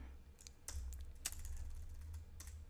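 Keys clatter on a computer keyboard in short irregular bursts of clicks, fairly close and moderately quiet over a low steady hum, with no talk.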